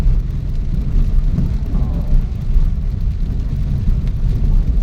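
Steady rain from Typhoon Enteng pours down on a road in Montalban in a constant dense hiss with a low rumble underneath, like traffic on a wet road.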